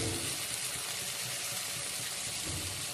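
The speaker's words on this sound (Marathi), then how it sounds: "आता बघा त्याच्यामध्ये पाणी सोडायचंय" Water poured steadily into a cooking pot of rice and moong dal for khichdi, a continuous close rushing splash that lasts the whole time with no voices.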